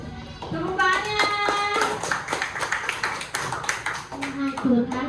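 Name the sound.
classroom clapping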